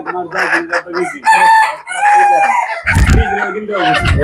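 Native Bangladeshi hens on a farm cluck loudly up close, and a rooster crows in a long drawn call, with further clucking and handling noises following.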